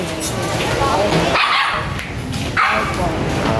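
Puppies, Chow and Pomeranian among them, bark and yip close by at a market pet shop, short high excited barks repeating throughout while people talk over them.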